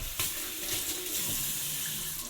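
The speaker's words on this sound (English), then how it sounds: "Guess we can wash my hands too as well." Water runs steadily from a sink tap, a continuous splashing hiss with no voices.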